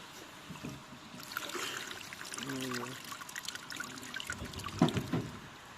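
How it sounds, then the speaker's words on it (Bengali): Pabda fish tipped into a pond along with water, a splashing pour and trickle that sets in after a quieter start, with a short burst of voices near the end. "এই মাছগুলি ছাড়া হচ্ছে।"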